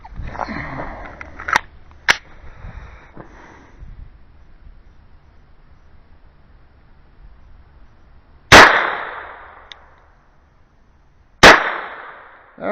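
A .22 LR rifle fires two sharp, loud rounds about three seconds apart during an ammunition test, with a few light mechanical clicks before them.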